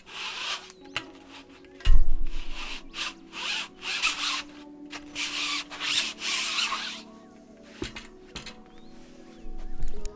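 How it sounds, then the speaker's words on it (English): A hand rubs waxy rubber residue off a new bicycle tire, giving close, dry squeaky rubbing strokes in repeated bursts with short pauses between them. "I'm just going to rub it off with my hand here so it doesn't look as patchy"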